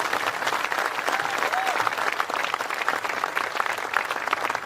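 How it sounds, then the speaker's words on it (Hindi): Audience at a Hindi comic poetry show breaks into loud, sustained applause, a dense even roar of clapping from a large crowd that holds steady throughout without speech. "हिंदी कविता के इस संवाहक के लिए एक बार जोरदार तालियां बजाइए"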